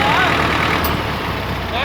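The engine of a Standard tractor, rated by its owner as very poor, runs with a steady low rumbling drone close by, a brief unbroken stretch with a faint whistling tone near the start.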